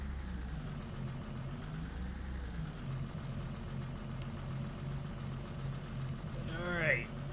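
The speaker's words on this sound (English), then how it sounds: "Man, do I love Farm Boy's tractor here" In Farming Simulator 19, a tractor engine drones low and steady at a near-idle hum, with a brief rising rev near the end.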